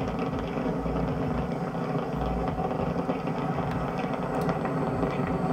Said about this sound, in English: the first stage is throttle down power on the Merlin engines in preparation for max Q